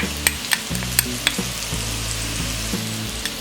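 Pointed gourd (parwal) frying in oil over a medium-high flame, a steady close sizzle with light scraping clicks from stirring, no voices.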